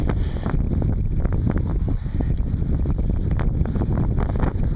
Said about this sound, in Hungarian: A szél persze erős